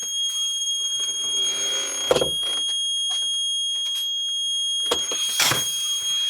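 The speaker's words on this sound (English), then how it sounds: "I'm going to put this on the continuity tester, which, if I get it all lined up, it should beep constantly" A continuity tester gives a steady, high-pitched electronic tone without a break while wiring on a Porsche 928 is checked, with a few clicks and handling bumps mixed in.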